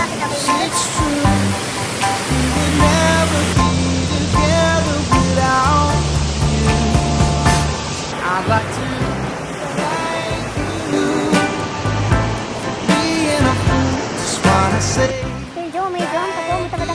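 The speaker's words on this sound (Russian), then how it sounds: "Идем по какому-то водопаду." Rufabgo waterfall in Adygea, a loud, steady rush of falling water heard up close and continuing throughout, with faint bits of voices or music mixed in.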